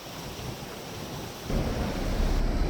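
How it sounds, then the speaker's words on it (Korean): Cool stream water rushes through a mountain valley on Bukhansan near Seoul, a steady close wash of flowing water that swells louder halfway through. "계곡에서 들리는 시원한 물소리 들으면서 오늘 산행도 마무리가 됩니다."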